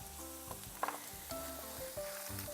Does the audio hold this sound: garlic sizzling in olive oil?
yes